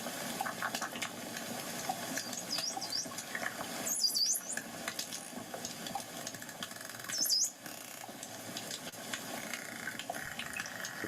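A male dolphin's faint high-pitched signature whistles chirp a few times over bubbly underwater noise, with rising and falling squeaky tones.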